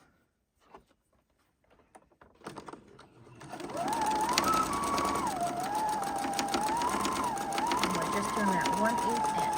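A domestic sewing machine runs a steady, continuous seam down the side of a fabric apron at an 1/8 inch allowance, starting after a few seconds of quiet and running close through to the end, with someone talking over it.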